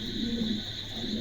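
A pair of Spanish Gorgoria cutter pigeons gives low, continuous cooing over a steady background hum, close and unbroken, with no voices.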